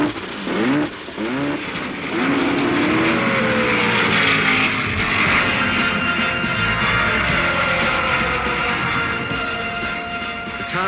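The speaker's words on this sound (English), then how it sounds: "start your engines." Race cars start their engines at Ontario Motor Speedway in California for the California 500, a loud, sustained roar of many engines with rising and falling whines, heard from trackside with no talking.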